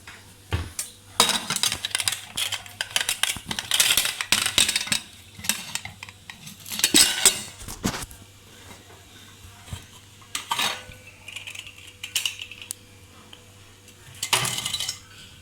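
Pots, lids and steel utensils clatter and clink in bursts around a pressure cooker being opened after its whistle while making onion payasam, with sharp metallic knocks and scraping, no talking.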